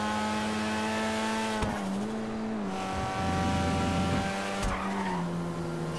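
The Savestra car in GTA 5, fitted with exposed turbochargers, drives with a loud, sustained engine drone that shifts pitch as it revs, with tire squeals and skids breaking in, and no talking.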